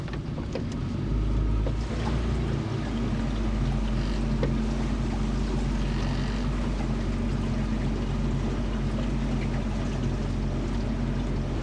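A boat engine drones steadily up close, with a low rumbling hum and wash of water as the craft moves off.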